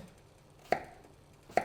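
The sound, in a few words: knife chopping sweet potato into cubes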